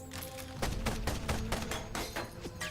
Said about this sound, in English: we're just going to go ahead and fire our light cannon here